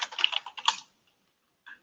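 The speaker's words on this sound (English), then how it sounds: "So I think if I start typing in" Typing on a computer keyboard in a quiet room comes as a quick run of close, crisp key clicks, then a pause and one more brief burst of keystrokes.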